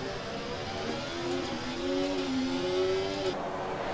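Formula 1 race car engines in the F1 24 game at Jeddah, a high-pitched whine climbing in pitch through a gear as a car accelerates, moderately loud and steady with no talk.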